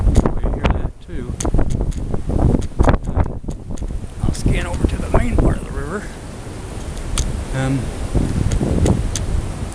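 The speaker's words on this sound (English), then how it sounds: "it's also very, very windy right now. You hear that too." Strong wind blowing beside a flooded river, gusts rumbling and buffeting the microphone beneath a person speaking close by throughout.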